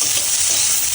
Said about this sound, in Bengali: দেখো মশলাটা মোটামুটি ভাজা ভাজা হয়ে এসেছে, পেঁয়াজটা একটু হালকা নরম করে ভাজা হয়েছে।